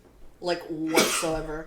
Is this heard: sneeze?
yes